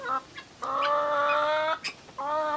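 Hens cluck and let out a few drawn-out, nasal calls close by on a tropical Far North Queensland property, separated by short pauses.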